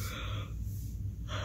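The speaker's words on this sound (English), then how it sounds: "I didn't mean to yawn in the middle of the video." A single long yawn from a person, a drawn-out breathy exhale lasting over a second, close and fairly loud with no talking.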